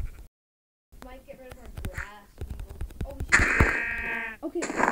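Sheep bleating in the video game Minecraft, including baby sheep, heard as a few short wavering bleats amid near, steady talk from a player.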